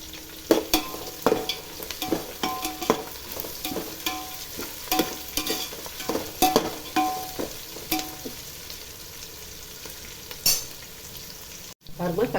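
Onions and green chillies sautéing for a vegetable pulao, with a spatula repeatedly scraping and clacking against the pan in an irregular rhythm over a low, continuous sizzle, close up and without talk.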